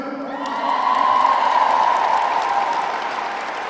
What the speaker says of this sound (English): As you can tell, you guys are clapping, looking around.